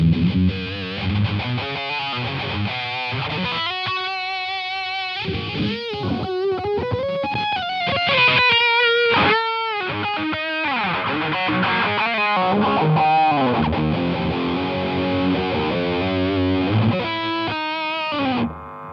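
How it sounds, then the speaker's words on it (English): Electric guitar through a Mojostompboxes-modded Boss Metal Zone distortion pedal plays riffs and sustained bends, heavily distorted, loud and continuous with harmonically rich, saturated tone throughout. "even all those extreme sounds, they still sound like a good distortion sound"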